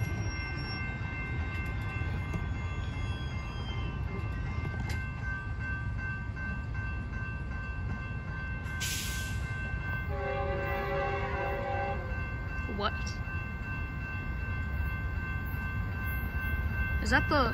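Metrolink F-125 passenger train at a railroad crossing with a steady rumble of cars rolling past and a loud horn blast sounding partway through, with no talk.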